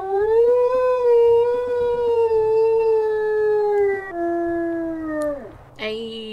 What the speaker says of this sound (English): We'll listen to her howl as well.